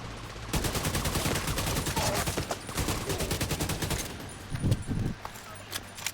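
Rapid bursts of automatic gunfire from two players shooting a boss at once in The Division 2, dense and continuous near the microphone, then thinning into scattered shots near the end.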